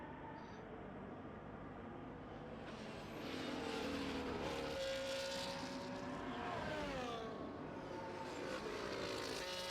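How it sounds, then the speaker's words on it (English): A race car in F1 24 on the Baku street circuit, its engine note rising and shifting as it passes close, with a rougher rattling stretch as it runs over the kerbs, heard alone without talk. "Another person really clattering the curbs through there"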